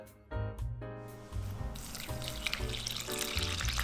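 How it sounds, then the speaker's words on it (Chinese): Whole milk poured into a well of bread flour with sugar, salt and yeast for a dough, a steady liquid trickle with soft sizzling texture running continuously and fairly close, with low background tones under it. "用纯牛奶来和面，"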